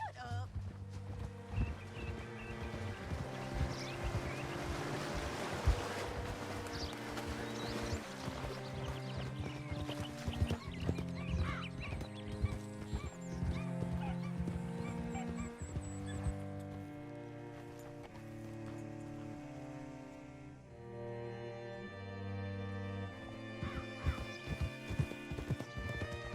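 Horse hooves clip-clopping at a steady walking pace in Red Dead Redemption 2, fairly faint under a musical score with occasional speech.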